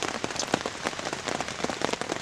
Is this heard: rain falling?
yes